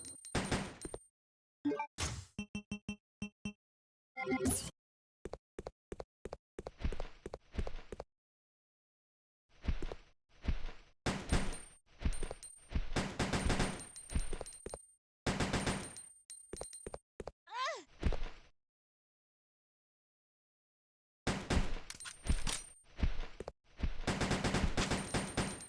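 Handgun fire at zombies in Resident Evil Code: Veronica X: sharp, punchy shots in rapid clusters, broken by short silences, with faint groans and game effects between volleys.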